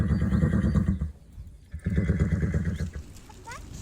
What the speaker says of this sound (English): Now then, meet Caris's horse, Pilgrim, who's purring in old Glossop.